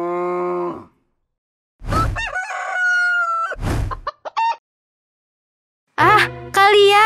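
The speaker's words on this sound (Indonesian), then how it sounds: "kalian, sapi, ayam jantan, dan ayam betina" A rooster crows several times in loud, close, drawn-out calls separated by short pauses, mixed with clucking from hens and a distant cow lowing, with a voice briefly heard.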